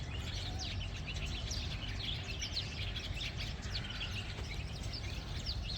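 Many birds of various kinds chirp and call at once in a small park, a dense busy chorus of overlapping tweets over a steady low background hum, with no voices.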